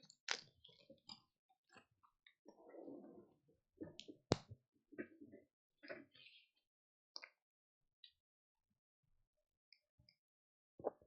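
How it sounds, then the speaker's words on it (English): Quiet close-up chewing and mouth noises from a player during an online Dominion card game, scattered soft wet clicks and crunches with long silent gaps. "Sorry if the chewing sounds are audible."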